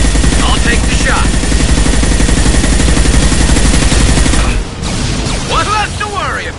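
Sustained rapid gunfire from a Mass Effect Legendary Edition firefight, a dense loud rattle of automatic shots for about four and a half seconds before easing into quieter combat noise and effects.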